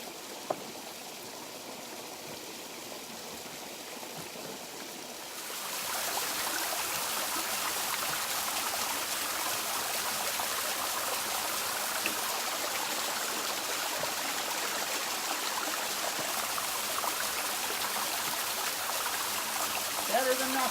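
A small waterfall and stream flowing along a hiking trail, a steady broadband rush of water that grows louder partway through and then holds constant, with no voices.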